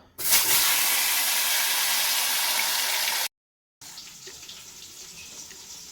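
Potatoes go into hot oil left from frying fish, a loud bright sizzling hiss that erupts at once and holds steady, cuts out briefly, then comes back quieter and settled.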